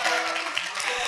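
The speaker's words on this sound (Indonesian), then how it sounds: "Tepuk tangan dong buat ini berhasil." A student leadership session audience claps for a successful group, a brief, dense patter of hands filling a room at steady loudness.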